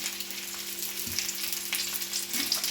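Fish frying in oil with curry leaves on top, a dense, steady crackling sizzle that stays fairly loud and close throughout, with a low electrical hum underneath and a couple of faint knocks, no talking.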